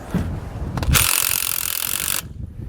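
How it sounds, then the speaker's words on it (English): A 19mm socket and wrench snugging nylon locking nuts on a heavy-duty tow bar fitted to base plates, with a few close metallic clicks and then a sustained loud ratcheting rasp that cuts off abruptly. "We can then grab a 19mm socket and wrench to snug these down."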